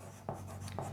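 A marker writes an equation on a board, two faint strokes audible over a steady low room hum, with no talking.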